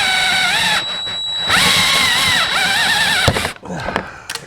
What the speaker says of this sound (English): that's how you drill the rivet out